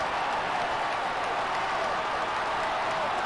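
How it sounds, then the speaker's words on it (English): A steady wash of crowd applause and cheering from a baseball video game, Astros fans at a 1978 Dodgers vs Astros game, continuous and fairly loud throughout, with no single claps standing out. "Astro fans applauding the center fielder's effort."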